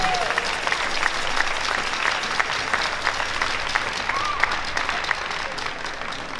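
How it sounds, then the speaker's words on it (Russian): Steady applause from spectators at a youth ballroom dance final in Minsk, dense continuous clapping that stays even and fairly loud across the whole stretch, with a brief whistle or shout popping out twice. "Болельщики, ваши аплодисменты"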